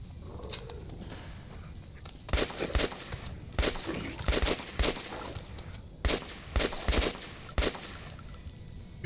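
Gunfire in the video game Metro 2033 Redux: repeated loud bursts of automatic weapon fire in short clusters, separated by brief pauses, over a quiet ambient background.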